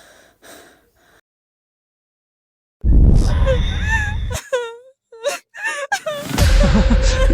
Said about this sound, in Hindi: अभी तो रोने की आवाज आ रही थी